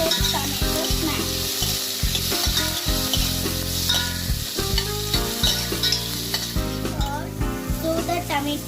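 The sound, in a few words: tomatoes frying and stirred with coconut paste for egg curry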